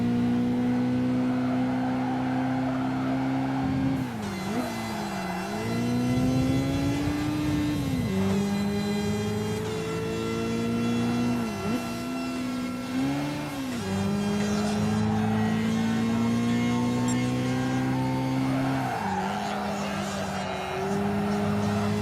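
A turbocharged race car in the video game Gran Turismo drones loudly and continuously, its engine note rising through gears with repeated dips on shifts and braking, and brief tire squeals.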